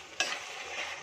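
Tomato paste stirred with spices and salt in a hot pan for an aloo dum: a sharp scrape of the spoon, then a soft continuous sizzle, close and quiet.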